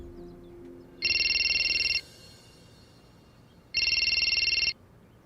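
A telephone rings in two bursts, each about a second long with a warbling electronic tone, separated by a pause over quiet indoor room tone.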